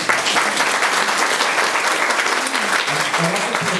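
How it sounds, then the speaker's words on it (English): A live audience at a cabaret performance claps loudly and continuously, a dense, close burst of hands with a few scattered voices underneath. "I'd like a big round of applause for the Greek people at the moment."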